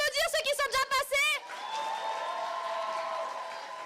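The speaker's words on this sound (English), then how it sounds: "On peut encore tous les applaudir, ceux qui sont déjà passés." Audience applause and light cheering fill a hall at a solo idol singing contest, rising after a host speaks briefly and then holding at a steady level.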